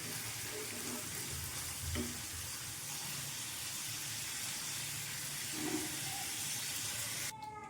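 Paneer fries lightly in oil, a soft continuous sizzle at low level, steady and unbroken, with faint clatter near the end.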